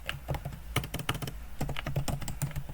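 Rapid, irregular keystrokes on a computer keyboard while a composition name is typed into After Effects software, close and clear with no talking.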